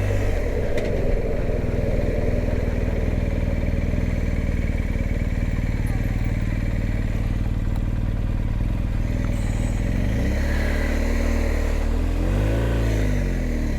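Cars and lorries rumble past on a busy road, with a continuous mix of engine drone and rolling noise, one vehicle passing close toward the end, and someone speaking over the traffic.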